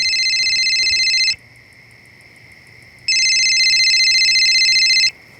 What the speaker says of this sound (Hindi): हाँ तेरा फोन बज रहा है।